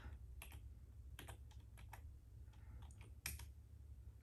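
Quick bursts of typing on a computer keyboard while entering a Git username, irregular close clicks and taps at low volume over a faint steady hum.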